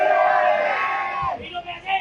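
A crowd of political supporters shouts together loudly at a rally, one sustained massed roar of voices that drops away into scattered calls near the end.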